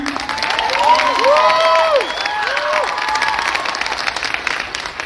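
Audience at an Alpine Academy Class of 2024 graduation ceremony applauding and cheering, with whoops and shouted voices rising over steady clapping, loud and close, then easing toward the end.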